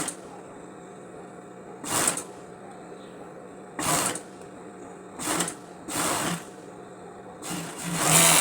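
A sewing machine stitches the sleeve seams of a polo shirt being remade into a fitted baby-look top, running in five short whirring bursts separated by pauses, close and fairly loud over a quiet room.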